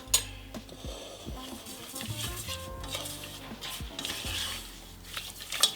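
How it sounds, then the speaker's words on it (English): A spoon stirs keto waffle batter made with SuperFat keto pancake mix in a bowl, giving close, irregular clinks and scrapes against the sides, with a couple of sharper knocks. "Now I'm just going to give this a good stir."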